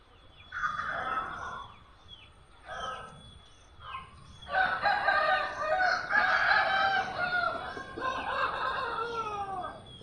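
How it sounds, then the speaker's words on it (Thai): Several roosters, fighting cocks kept by a brother, crow one after another in the morning, with long overlapping calls at moderate distance that grow denser and louder toward the end. "ฟังเสียงไก่ ไก่ ขันเยอะแยะ"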